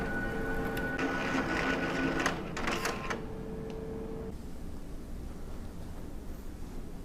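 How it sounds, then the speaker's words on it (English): An Entrust Datacard card printer pulls an adhesive cleaning card through its length, giving a steady mechanical whirring with rollers feeding, brief clunks near the middle, then a quieter motor hum to the end. "The printer will now pull the adhesive card in and run it through the length of the printer and up into the vertical option."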